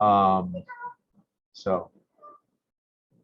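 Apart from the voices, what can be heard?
cat meowing in background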